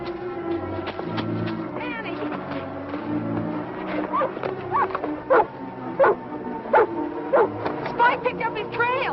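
A dog barks and yips in a series of short, sharp calls, sometimes whining, close by, over a steady bed of music and voices in the background.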